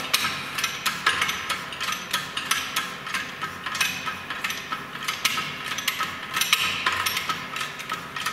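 Hydraulic pump worked by hand to load a fillet weld break test, giving a steady run of metallic clicks and clanks with a repeating rhythm, fairly close and continuous, with no talk.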